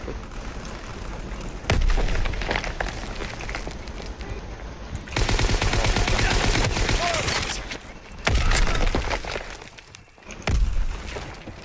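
Submachine gun fire in the World War II shooter Call of Duty WWII, loud bursts of automatic gunfire with booming shots and battle noise throughout, heaviest in several dense stretches.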